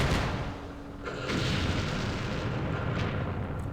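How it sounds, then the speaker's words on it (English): Booming 120 mm mortar fire in the Vietnam war game Campaign Series Vietnam, Dien Bien Phu, a heavy blast rolling into a sustained rumbling barrage with a second burst near the end, no talk. "The mortars."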